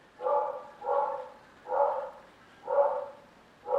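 A dog barks in a steady series of five evenly spaced barks, moderately distant and fairly faint, with nothing else around them.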